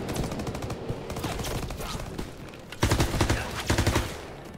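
A mounted turret machine gun in the Call of Duty WW2 video game hammers out rapid, loud bursts of fire, with a sustained stream first, then two short, heavy volleys close up.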